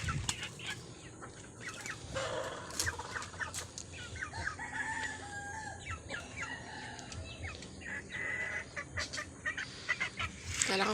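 Chickens cluck and squawk continuously up close amid a busy flock of chickens and pigeons feeding, with scattered sharp calls and a crow, no speech.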